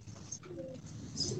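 Batere pigeons cooing faintly, a few soft low coos in a quiet room with light background noise.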